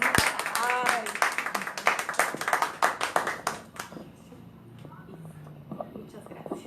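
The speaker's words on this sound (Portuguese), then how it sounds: "Aplausos para a participação" A small group claps briefly in thanks after a participant's contribution, bright scattered claps close to the mic over low background talk, tapering off after a few seconds into quieter murmuring.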